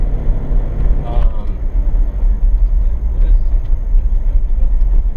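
A car fitted with hand-operated driving levers rolls along with a steady low engine rumble and road noise throughout, heard from inside the cabin.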